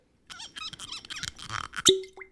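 A cork pops out of a bottle with a short, sharp plop followed by a brief ringing bleep, right after a stretch of lively talking nearby.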